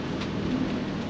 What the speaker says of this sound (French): Ah, il pleut aujourd'hui.